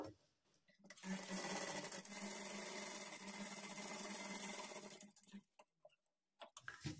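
A sewing machine stitches a dart on a blouse in one steady, fast, even whir lasting about four seconds, followed by a few soft clicks and fabric handling noises.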